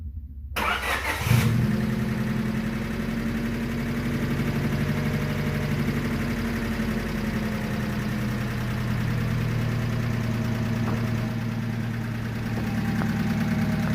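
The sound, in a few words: Honda Civic engine cranking, starting and running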